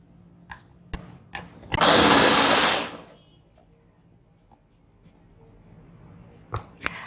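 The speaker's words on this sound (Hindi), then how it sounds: "अब मैं इसको अच्छे से ब्लेंड कर लूँगी।" A blender whirs loudly for about a second and a half, blending pina colada with coconut powder and pineapple syrup, framed by a few sharp clatters and knocks before and after.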